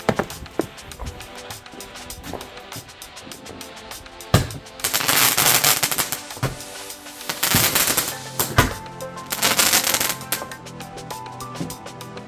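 Fireworks burst at a Bonfire Night display, a rapid series of crackling bangs and popping salvos, with several loud sustained crackle bursts midway and near the end, heard from fairly close outdoors.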